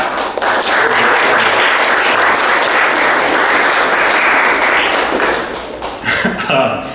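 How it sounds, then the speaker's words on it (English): An audience at a poetry reading applauds the University of Georgia staff, a dense, loud round of clapping that fades near the end, where a voice and a few last claps come through. "Round of applause for them, please."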